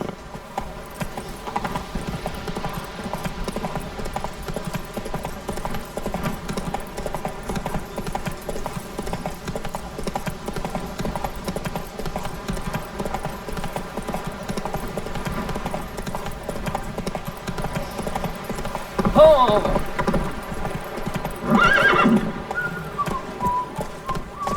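Roach, Geralt's horse in The Witcher 3, gallops steadily with rhythmic hoofbeats over layered game music, with a couple of louder swells near the end.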